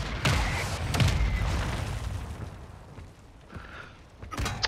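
Video game artillery fire mission striking, heavy booming explosions with deep rumbling impacts, one big blast early, another around the first second, then fading rumble and a final sharp burst.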